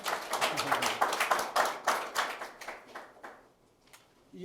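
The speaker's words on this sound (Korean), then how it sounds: "큰 박수 부탁드리겠습니다" A seminar audience claps for an introduced speaker, a fairly close burst of hand claps that gradually thins out and fades to a few scattered claps.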